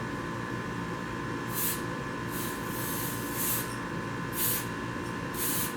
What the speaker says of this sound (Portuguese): a gente passar o verniz na garrafa, a gente deve manter uma distância de 10 centímetros para não escorrer o verniz